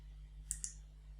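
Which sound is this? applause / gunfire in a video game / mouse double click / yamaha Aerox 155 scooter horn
mouse double click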